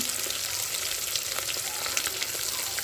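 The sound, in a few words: cashews frying in ghee for ghee rice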